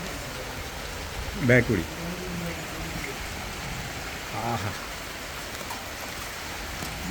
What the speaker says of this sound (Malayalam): ആ മഴ പെയ്തിട്ടോ, മഴ പെയ്തേ.